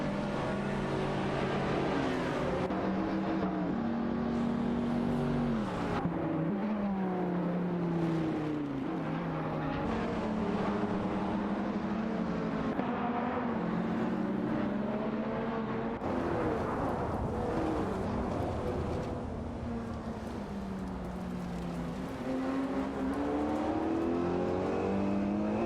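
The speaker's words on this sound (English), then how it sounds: "The battle is tight, with all 3 cars exchanging positions in the corners, showcasing their performance capabilities." Several autonomous race cars battle closely on a track, their engines whining and revving in overlapping layers that rise and fall through gear changes and corners, loud and continuous.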